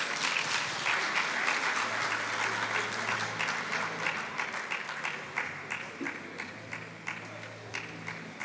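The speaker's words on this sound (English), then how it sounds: "We can give them a round of applause" An audience at a national oral history conference applauds, a dense, steady round of many hands clapping that gradually thins and softens toward the end.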